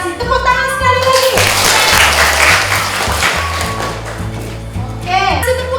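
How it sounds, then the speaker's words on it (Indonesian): Children clapping together in a classroom, a burst of claps mixed with background music and voices, fairly close and loud, lasting a few seconds. "Tepuk tangan sekali lagi."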